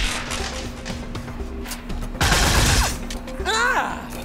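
A weapon fires in the video game Atlas Reactor, a loud burst of crackling shots followed by whooshing, rising synthetic effects, all close and dense over a steady game background.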